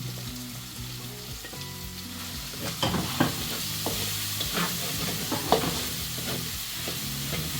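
Garlic sizzles in a pan for pinakbet, a Filipino vegetable dish, with a steady frying hiss broken by sharper crackles and utensil scrapes in the middle, fairly close and alone.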